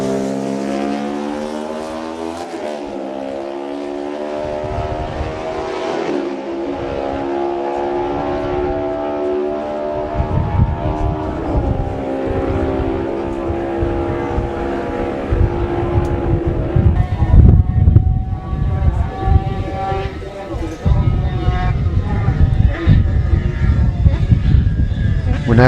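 Two 350cc classic racing motorcycles, a Matchless and a Honda, approach and roar past on a road course, engines rising in pitch then dropping away, loud and close with a commentator talking over them.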